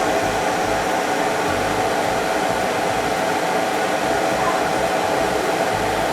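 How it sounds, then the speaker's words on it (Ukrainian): A coffee machine running on a backup power system produces a loud, steady, unbroken whirring hiss that stays even throughout, with no voices. "А ну давай тепер кофемашину."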